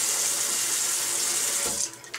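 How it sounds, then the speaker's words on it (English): Tap water runs into a sink as a bright, steady splashing hiss, close and fairly loud, and then breaks up into a few brief spatters as the flow is shut off. "turn off the water so you guys can hear me."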